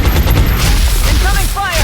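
Suppressing fire from a soldier in XCOM Enemy Within, a loud, close burst of rapid automatic gunfire lasting under two seconds, with a faint voice near the end.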